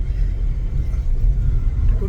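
A Tata Punch car rolls along a highway on a road trip, its steady low engine and tyre rumble heard close from inside the cabin, continuous with no pauses.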